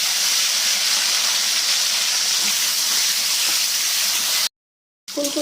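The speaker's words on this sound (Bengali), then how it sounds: "খিচুড়ির জন্য ফুলকপিগুলো ভেজে নেব।" Cauliflower pieces fry in hot oil in a wok for khichdi, giving a loud, steady, hissing sizzle that cuts out abruptly before a faint tone returns.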